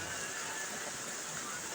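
Steady wash of rain falling during a typhoon, a constant even hiss with no distinct pauses.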